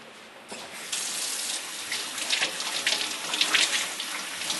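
Warm water runs steadily from a sink tap, a continuous close splashing stream that swells slightly partway through, with no voices over it.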